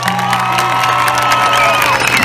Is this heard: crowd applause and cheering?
yes